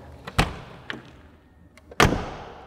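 A classic Saab 900 Turbo 16 S door being shut: a heavy, solid thud near the start, a softer knock, then a louder, deep closing thump with a short ringing tail, close by and with no talk.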